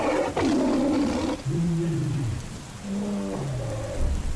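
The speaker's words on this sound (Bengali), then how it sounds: "শেষ শব্দ যেটা শুনলাম সেটা ছিল বাঘের গর্জন আর বৃষ্টির শব্দ।" A tiger's deep roars rumble out in the Sundarbans amid steady rain, two long growling calls close and loud over the constant hiss of rainfall.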